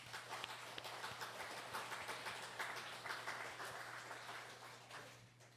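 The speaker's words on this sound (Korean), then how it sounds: "우리 한번 박수 한번 쳐주시기 바랍니다" A church congregation applauds its volunteers with a fairly faint, dense patter of many hands. The clapping runs unbroken throughout over a low steady hum.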